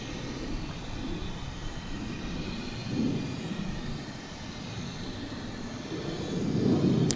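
An airliner bound for Las Vegas takes off from runway 36 Right at Dallas/Fort Worth Airport, a steady low engine roar that swells briefly near three seconds and grows louder toward the end, heard alone without talk.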